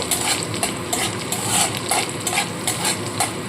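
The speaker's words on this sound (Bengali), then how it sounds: "রসুনটা একটু হালকা ভেজে নেব" Garlic lightly frying in a pan with chopped green chillies nearby, a bright continuous sizzle punctuated by rhythmic scraping strokes of a spatula, close up and with no talk.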